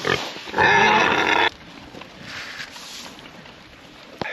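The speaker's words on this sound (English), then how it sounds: "this is one of our breeding groups, so they have a boar" A Duroc boar pig at feeding time on a homestead, giving a loud, drawn-out squealing grunt for about a second, then fainter snuffling, movement and outdoor noise.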